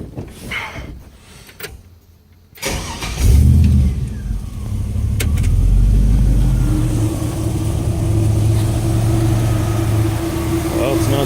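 An LS-swapped 1967 Chevrolet Bel Air V8 cranks and catches after a brief quiet gap, then settles into a loud, steady running idle with a low rumble and a whirring tone, close by, with some talk at the start.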